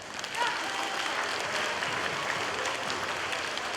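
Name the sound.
assembly applause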